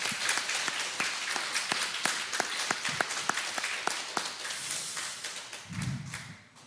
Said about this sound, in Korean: 우리 한번 하나님께 영광의 박수 한번 올리겠습니다.